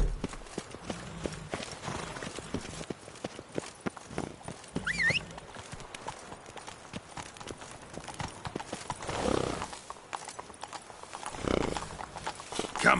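Roach the horse clip-clops at a steady trot in The Witcher video game, hoofbeats running evenly through the whole stretch under ambient game sound, with a brief whinny-like rise partway through.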